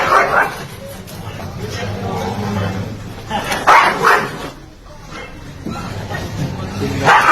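A dog fighting a rooster barks, yips and whimpers in repeated bursts, mixed with loud, continuous narration by a man.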